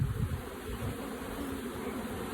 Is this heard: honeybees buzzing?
yes